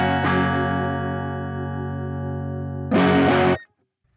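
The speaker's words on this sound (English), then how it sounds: "there you heard it suddenly starts to trip into distortion" An electric guitar played through an amp with the gain pushed up into distortion: one chord rings out steadily for about three seconds, then a short, louder distorted strum cuts off abruptly.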